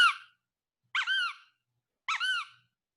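A rubber duck squeaks three times, each a short, high, wavering toy squeal, with pauses of about a second between squeezes in silence.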